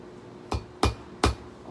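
A metal ring being flattened on a ring mandrel: three sharp, ringing hammer blows in quick succession, close and clear against a quiet background with no voices.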